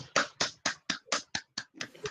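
Nine distinct hand claps in an even rhythm, close and fairly quiet, as a classroom joins in a short rhythmic clap after a group presentation.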